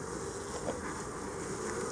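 Honey bees buzzing as they are scooped by hand into a hive, a continuous low faint drone close by, with no voices.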